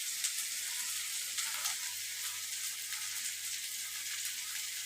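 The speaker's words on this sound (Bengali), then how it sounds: "দিয়ে এবার ভাজা ভাজা করছি" Rice with potato, onion, garlic and chili frying in a pan gives a bright, steady hiss of sizzling oil throughout, close and even, with a faint low hum underneath and no speech.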